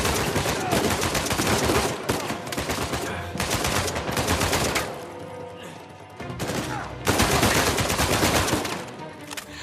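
Rapid gunfire in a shooter video game: dense bursts of automatic shots crackle almost nonstop, loud and close, with a couple of brief lulls between volleys.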